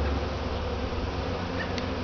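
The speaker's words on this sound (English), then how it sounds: "when they're swarming like this, they're not very aggressive" A swarm of honeybees settling on an empty hive box, producing a steady, close, dense buzzing drone that holds unbroken throughout, fairly quiet with no voices.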